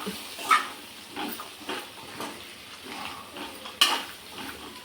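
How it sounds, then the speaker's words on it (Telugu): Egg masala paste fries in oil in a pan while a spoon stirs it, giving intermittent scraping strokes over a faint sizzle, close by, with a few sharper clinks of utensil against the pan. "ఇది ఆయిల్లో స్ప్రెడ్ అయ్యేటట్టు చూడాలి పచ్చివాసన పోయేదాకా మంచిగా కలుపుతూ ఉండాలి"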